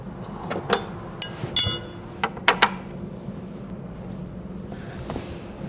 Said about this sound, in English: Your washer, your nut. You grab your 2 wrenches.